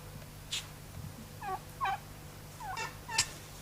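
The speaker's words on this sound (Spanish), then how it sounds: "Entre los meses de mayo a junio, los guajolotes se dedican a la reproducción." Wild turkeys gobble in the Mexican mountains during breeding season, several separate bursts spaced over a few seconds, clear against a quiet, low background hum.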